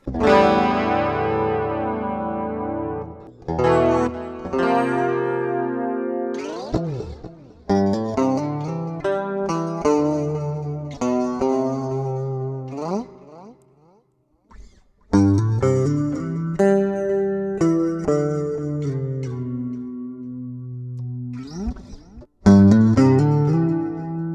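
A clean seven-string multiscale electric guitar plays ringing chords and single notes with shimmering modulation and echo, phrases separated by short pauses.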